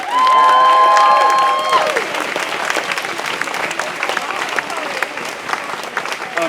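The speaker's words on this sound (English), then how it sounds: "Can we have another round of applause?" An audience at an outdoor nature rally applauds and cheers after a song, a loud dense wash of clapping that swells at the start and then settles into steady applause with a few voices and a sung tone over it.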